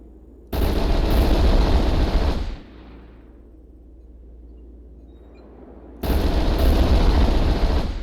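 Two thunderous explosion barrages from an airstrike in the video game MechWarrior Online, each lasting about two seconds, with a low rumbling tail fading between them; loud, dense and with no speech.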